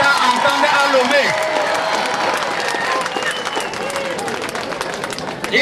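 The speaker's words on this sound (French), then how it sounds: "il faut applaudir encore plus fort pour que le chef de l'État entende à Lomé" A crowd applauding at an NGO ceremony in Togo, dense clapping mixed with voices and murmuring from the gathering, loud and continuous throughout.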